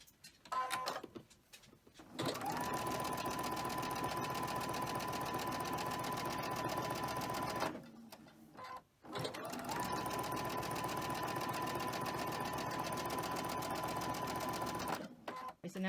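A sewing machine stitches pieces of a gingerbread holiday quilt, running in a long, steady, close whir, then pausing briefly before starting another long run.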